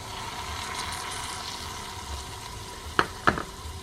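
Meat sauce cooks in a Dash mini rice cooker, giving a steady close sizzle and bubbling hiss, broken near the end by two brief sharp clinks.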